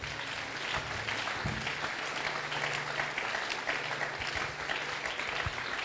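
A church congregation applauds and cheers at length, a dense, steady wash of clapping with voices mixed in, sustained at even loudness throughout.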